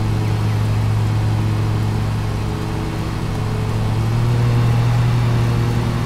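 Skag Patriot lawn mower engine in Lawn Mowing Simulator, a loud steady drone holding a constant hum, running continuously at close range with no talk.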